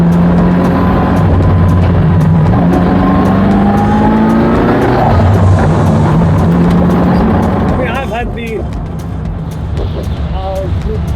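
A Ferrari F40 engine roars continuously from inside the car while driving, with loud rising revs and shifts between gears. Someone talks over the engine noise.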